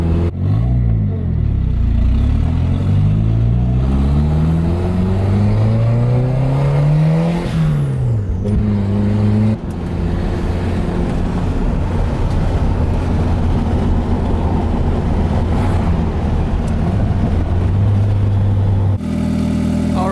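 A Mitsubishi Eclipse 4G63 turbo engine runs loud and close, revving up in rising sweeps during the first half before settling into a steady, smooth drone.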